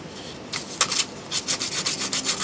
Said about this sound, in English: So you want to spend some time filing down, sanding down any of your sharp edges.